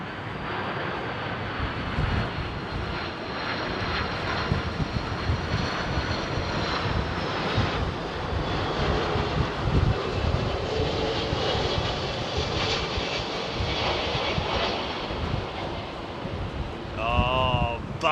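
A Singapore Airlines Boeing 747 freighter rumbles through its approach and landing at a busy airport, a loud, sustained broadband jet roar with wind buffeting the microphone and people talking faintly nearby.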